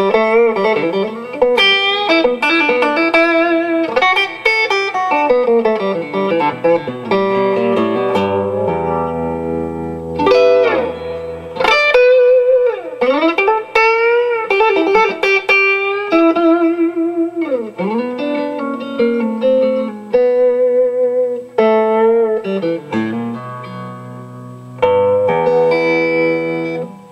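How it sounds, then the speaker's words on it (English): A Tom Anderson Atom electric guitar plays through a Route 66 compression and distortion pedal with added reverb and tremolo, sounding melodic lead lines, bends and sustained notes for nearly half a minute, loud and close with no talking. "little compression and distortion, courtesy of a Route 66 pedal."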